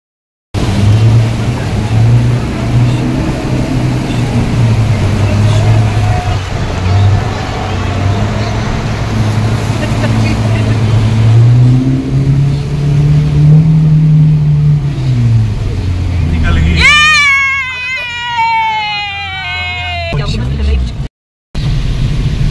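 A car engine drones and shifts gear while driving along a flooded mountain road in Uttarakhand, steady and close for most of the stretch, then a burst of shrill tonal sound takes over near the end, with voices faintly present.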